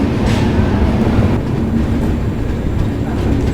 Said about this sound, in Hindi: अब ट्रेन निकल चुकी है चित्तौड़ जंक्शन से